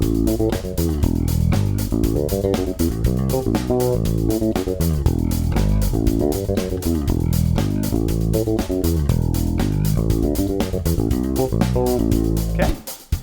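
Bass riff in its original studio recording at 119 bpm, a steady, punchy repeating bass line with drums driving alongside, loud and continuous before cutting off abruptly at the end.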